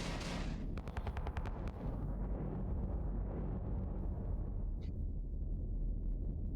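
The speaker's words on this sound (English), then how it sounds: "They're going to start launching missiles at you." Enemy missile volleys in the Starsector space game: a booming launch blast followed by a quick rattling string of rapid shots, then a low sustained rumble with one faint high blip.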